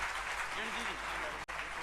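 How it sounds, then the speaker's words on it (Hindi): An audience applauds at a Jain devotional question-and-answer gathering with Sudha Sagar Ji Maharaj, giving a steady, dense wash of clapping close by, with one brief dropout near the end. "ऐसे भक्तों के सम्मान में आप जोरदार तालियां बजाएं।"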